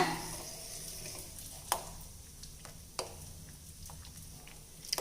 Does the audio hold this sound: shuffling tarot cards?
no